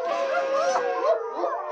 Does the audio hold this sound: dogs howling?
yes